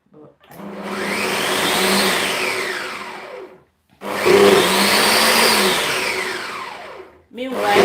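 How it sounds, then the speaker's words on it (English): Blender whirring through egusi soup ingredients with water in two long loud runs, the motor pitch sliding as it works, separated by a short pause and then starting up again at the end. "So I'm going to blend it again."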